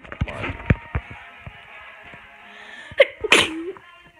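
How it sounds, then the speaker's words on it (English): A single sharp sneeze bursts out after a few seconds of quiet room noise, followed by a brief breathy exhale. "There I go sneezing again."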